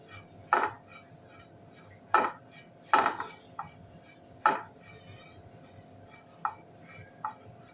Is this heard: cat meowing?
no